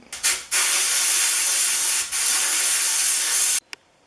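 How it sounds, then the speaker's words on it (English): A sandblaster blasts metal parts of a Stanley No. 78W duplex weather stripping plane, loud close steady hissing bursts, one short and one long, cut off abruptly, with no talk. "Next step is a light once over in my sandblaster to get this thing ready for paint."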